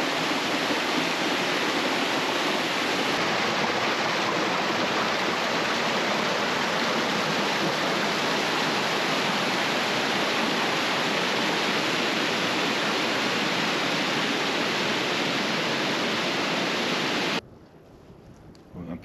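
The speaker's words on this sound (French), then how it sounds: "Et la cascade là." Loud, steady roar of a mountain waterfall in the Écrins, close and continuous with dense broadband rushing water, cutting off abruptly near the end.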